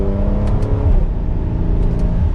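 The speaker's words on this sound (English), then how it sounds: "And I love the fact that we have pops in that exhaust." A Mercedes-AMG GLC 43 4Matic in Sport Plus mode revs loudly and steadily up close. Its deep exhaust drone carries a few brief sharp crackles near the start and again near the end.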